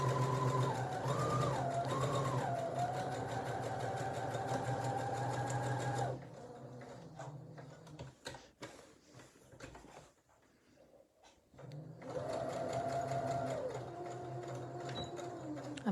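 A sewing machine stitches seams on a drawstring activity bag, running in a steady close whirring burst, pausing with small clicks and handling sounds, then stitching again.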